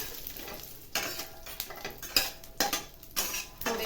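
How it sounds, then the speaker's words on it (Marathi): Almonds and cashews roast in ghee in a kadhai, a soft, quiet sizzle punctuated by repeated clinks and scrapes of a spoon against the metal pan, no voices present. "हे काजू आपण आता ते थोडे भाजून घेऊया"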